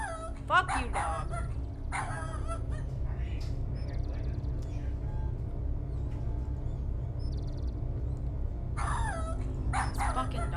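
A small cartoon dog in the King's Quest 7 video game lets out sharp, yappy barks in short bursts near the start and again near the end, with game music and a voice in between.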